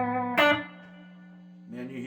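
Electric guitar playing a short blues run lick on a repaired Strat or Tele, a bright picked attack ringing into a sustained low note before another phrase begins, heard alone and close with light effects.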